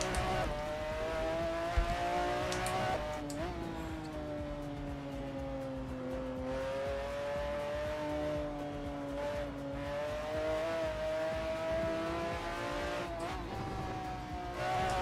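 In a racing video game, a Pagani Zonda holds a steady engine drone, with the pitch rising and falling through shifts and tires squealing through corners. The sound stays continuous and close, with no talking.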